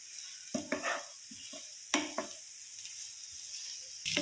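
Green chillies and curry leaves sizzle in hot oil as a spoon stirs them in the pan, with a soft continuous hiss broken by several sharp scrapes and knocks against the metal.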